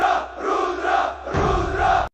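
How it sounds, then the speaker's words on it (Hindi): A village crowd gathered for a wrestling dangal raises a loud chant together, voices swelling in two sustained waves close by before cutting off abruptly. "भीड़ से एक साथ नारा उठा।"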